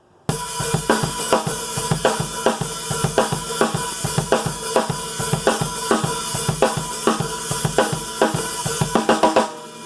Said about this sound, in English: when you play this beat, it's going to actually be with an open hi-hat